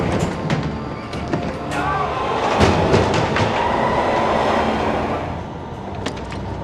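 A train rumbles past with rhythmic clickety-clack, loud and close, a steady roar of rail noise throughout.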